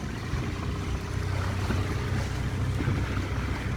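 Heavy waves churn and slosh against a boat under strong wind, a steady roaring wash with no voices.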